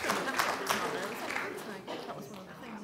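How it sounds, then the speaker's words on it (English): Church congregation applauding at a Baptist Sunday service, a steady wash of hand claps lasting the whole stretch with a few voices murmuring underneath. "Give me a round of applause"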